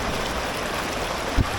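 Steady broadband rush of stream water flowing near a waterfall outdoors, continuous and fairly loud, with a brief low thump near the end.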